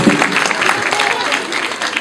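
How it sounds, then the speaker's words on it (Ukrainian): Audience clapping for a young girl who has just sung on stage, a dense, steady burst of applause, close and loud, with a voice talking over it. "Аплодисменти дитині."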